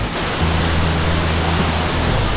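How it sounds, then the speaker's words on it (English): Rushing water from an abandoned waterfall between Hue and Da Nang in Vietnam roars steadily as a dense, continuous wash, loud and unbroken, with no voices. "This is the abandoned waterfall."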